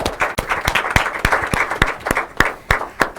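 Audience at an inter-collegiate quiz and debate competition claps: close, sharp handclaps in a fairly steady rhythm over a softer bed of scattered applause, with no talking.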